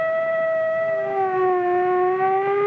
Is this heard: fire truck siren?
yes